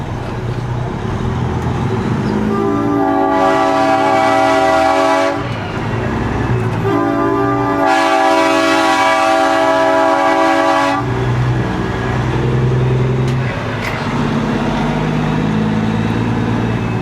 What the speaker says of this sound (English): So I think they're gonna be getting a train horn.